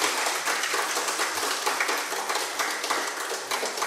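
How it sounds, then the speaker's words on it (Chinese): Audience clapping at a Buddhist teaching session in Penang, a dense crackle of many hands heard from a distance, steady and fairly faint throughout. "那要鼓掌就大声点鼓"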